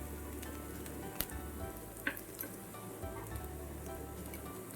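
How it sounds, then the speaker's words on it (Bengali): Spice masala frying in a pan over medium-low heat for an egg curry, a steady soft sizzle throughout with a few brief louder pops and crackles. "একদম মিডিয়াম টু লো আছে আমি ভেজে নেব মশলাটাকে"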